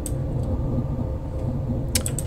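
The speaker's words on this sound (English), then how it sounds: "or maybe that's the sound of machinery turning" Machinery turning in the game Amnesia: The Dark Descent, a steady low mechanical rumble with faint ratcheting, creaking gear clicks and a brief higher rattle near the end, constant and alone.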